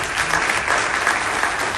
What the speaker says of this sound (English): I would like all of you to give a great round of applause for Indian Air Forces